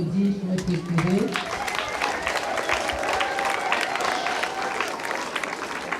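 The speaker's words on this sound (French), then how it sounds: "Je vous demande d'applaudir notre curé." A church congregation at a Mass claps for their parish priest, a sustained round of applause from a crowd that follows a brief spoken phrase and continues evenly to the end.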